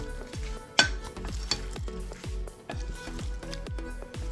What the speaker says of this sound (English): So just give it a proper stir so that they can all season together.